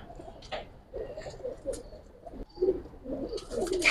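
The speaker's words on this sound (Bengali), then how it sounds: "ফিট ক্লিনের কবুতর।" Fit line racing pigeons in a loft coo softly and repeatedly, low throaty calls layered over one another at close range with no talk.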